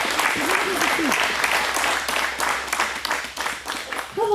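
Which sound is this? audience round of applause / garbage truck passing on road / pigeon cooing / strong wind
audience round of applause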